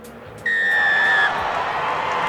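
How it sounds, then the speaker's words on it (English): A referee's whistle signals kickoff in the rugby video game Rugby Challenge 4, during a Super Rugby match between Bristol Bears and Waratahs: one loud, steady blast of about a second rises over a constant crowd roar. "The whistle blows, and here's the kickoff."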